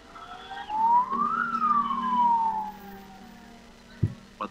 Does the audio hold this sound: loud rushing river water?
no